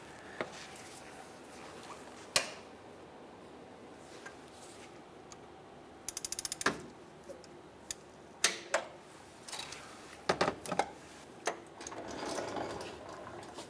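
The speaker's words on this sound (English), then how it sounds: "We're going to go ahead and remove that using a serpentine belt tool just for the reach." Ratcheting and clicking of a serpentine belt tool on a 14 mm pulley bolt of a 2003-2011 Honda Element, sharp metallic ticks in irregular bursts with a few louder clanks, close and alone.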